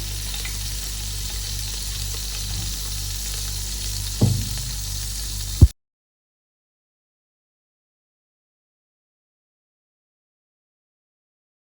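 Butter melts and sizzles in a pan at the start of a white sauce, a close, steady frying crackle with a small clink partway through, then the sound cuts off abruptly.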